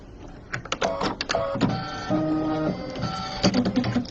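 A home embroidery machine stitches a design, loud close rapid mechanical chattering and clicking with short pauses and steady motor tones, no talking over it.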